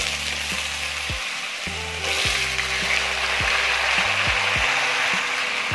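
Potatoes drop into hot oil over a low gas flame and set off a loud, continuous sizzle close by, broken by a few sharp knocks and scrapes from a spoon against the pan. Nobody speaks.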